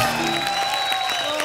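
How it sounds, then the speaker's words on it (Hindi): A studio audience at a comedy show claps and cheers for a performer, a dense, even burst of applause heard at moderate level throughout the short span. "एक बार कृष्णा के लिए जोरदार ताली हो जाए"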